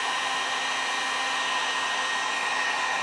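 A cheap handheld heat gun blows a steady, loud hot-air roar across freshly glazed pottery, drying the glaze; the whine holds constant throughout with no talking.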